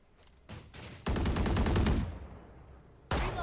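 Several loud bursts of gunfire from a shooter video game, a short volley followed by a sustained roaring blast that fades, then another sharp burst near the end.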